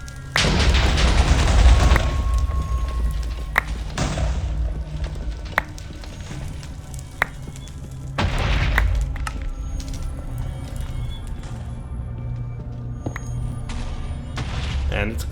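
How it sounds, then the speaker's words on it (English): Explosions go off in the Minecraft modpack FTB Revelations, several deep booming blasts spaced apart over about fifteen seconds with crackling debris between them. "And it's explodey time."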